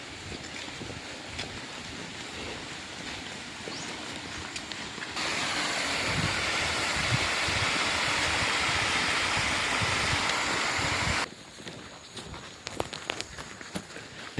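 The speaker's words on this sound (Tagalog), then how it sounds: "Naririnig ko na tunog ng tubig" Steady rushing water fills the middle stretch, a broad hiss that rises abruptly and cuts off again, with footsteps and outdoor ambience on a walk before and after.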